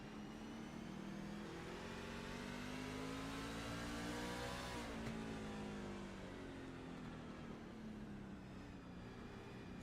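Race car engines rev hard and hold at high pitch in iRacing at Martinsville, a steady loud roar with harmonic sweeps as throttle rises and falls across the whole stretch, no talk.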